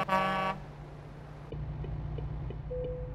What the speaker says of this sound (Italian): Chiamo un colpo di clacson